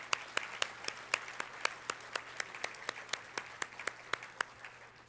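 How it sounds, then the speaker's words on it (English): Scattered, sparse clapping from an awards program audience honoring officials, a steady rhythm of distinct claps at moderate distance with no talk over it. "Let's give them all a big round of applause"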